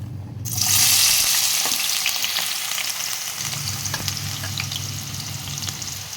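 Onion pieces hit hot oil in a kadai for a fish pulusu. A loud, close hiss bursts out suddenly and then settles into a steady crackling sizzle over a low background hum.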